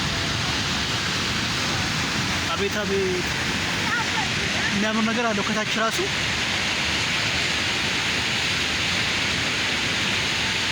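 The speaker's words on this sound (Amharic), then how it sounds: "እኔ የቀበና ወንዝን አቅም ያየሁበት ፏፏቴ ነው።" Water pouring over a shaped wall of an artificial waterfall on the Kebena river makes a steady, close roar that fills the whole stretch, with someone talking excitedly over it partway through.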